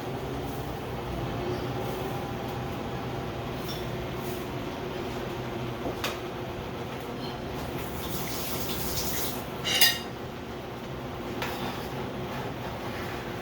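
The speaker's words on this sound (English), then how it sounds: "I'm going to steam it out with some salt" Karila (bitter gourd) steams with salt in a pot, giving a steady broadband hiss and rush that runs unbroken, with one brief clink partway through.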